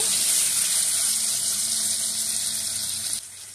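Taro stolons frying in a pan with green chilli and salt, giving a loud continuous sizzle while being stirred, which drops off abruptly just before the end.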